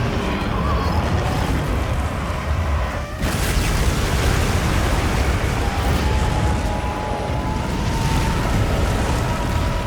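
Zoh Shia's fire ultimate attack in a video game, a roaring, rumbling blast of flame that fills the space continuously and loudly, with a sharp surge partway through and no talk over it.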